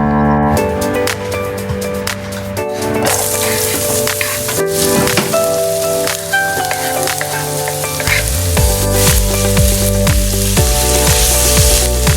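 Food frying for a family celebration meal gives a loud, steady sizzle and crackle, heard under prominent background music throughout.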